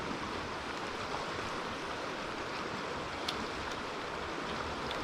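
Turbulent river current rushes steadily during fly fishing for salmon and sea trout, a constant loud broadband roar of churning water with no break and no voices.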